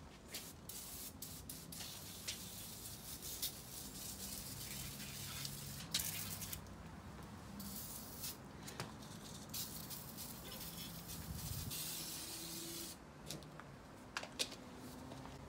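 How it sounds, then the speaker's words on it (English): Short, faint hisses of cleaner sprayed onto a Harley-Davidson Street Glide being cleaned for a rebuild, repeated in quick irregular bursts with light clicks between them. "so I'm just gonna spray where I just think it's bad."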